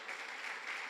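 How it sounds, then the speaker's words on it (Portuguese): Church congregation applauding for Samuel during a service: a brief, even burst of clapping from many hands, steady throughout. "Dá uma salva de palmas para Samuel"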